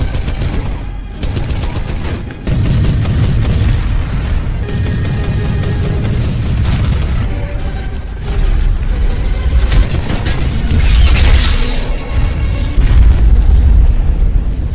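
A palace building destroyed by explosions in an action film, a loud sustained roar of blasts, rumbling and crackling debris with repeated booming surges across the whole stretch, and no talking.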